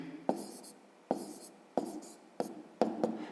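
A pen scratches out numbers by hand on paper while an answer to a fifth-grade maths equation is written down, five short quiet strokes spaced about a second apart, close and alone.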